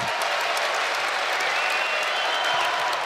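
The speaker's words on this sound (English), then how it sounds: "Gopher crowd coming alive" Crowd at a Minnesota women's college volleyball match roars and cheers after a block, a steady dense wash of cheering and applause at full loudness throughout.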